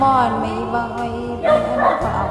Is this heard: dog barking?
yes